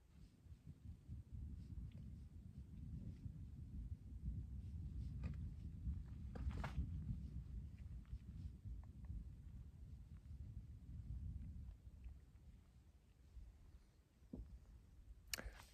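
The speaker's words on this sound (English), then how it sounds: "We've got a thunderstorm brewing in the distance." Distant thunder from a storm on a camping trip rolls as a long, faint, low rumble that swells and fades for several seconds, with a couple of soft clicks near the end.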